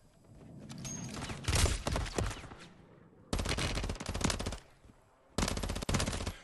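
Bursts of loud automatic gunfire in a battle royale shooter, with several sustained volleys separated by short pauses.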